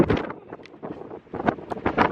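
Gusts of wind buffet the microphone in rough, uneven bursts, rumbling close up with brief lulls between blasts.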